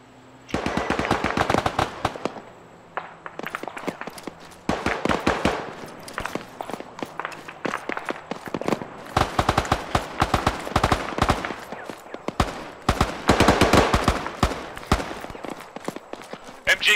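Machine gun fire in Arma 3 rattles out in repeated loud, close bursts of rapid shots, separated by short pauses and continuing for about seventeen seconds.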